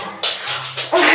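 A dog lets out a few short barks or yips close by, three quick bursts in just over a second with no talk.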